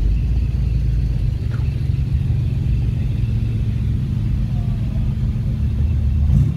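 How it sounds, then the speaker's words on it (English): A Ford Capri RS passes at the Nürburgring, its engine a steady low rumble throughout that swells slightly at the end, with faint talk in the background. "A Capri RS."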